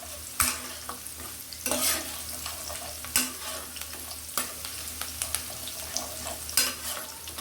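Onions sautéing in a hot pan, a steady sizzle broken by repeated scraping stirs of a spatula, close and fairly quiet, with no voices.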